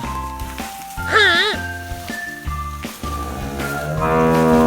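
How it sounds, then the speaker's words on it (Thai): Cattle on a farm in fresh countryside air give a few loud, drawn-out moos at close range, rising and falling over a busy outdoor background. "นี่ครับวัว"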